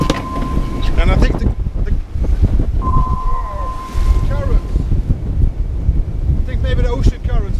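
Strong wind buffets a boat in rough North Sea water about 30 miles off Shetland in winter, with heavy waves striking the hull, a steady roar of wind and water and sloshing bursts throughout.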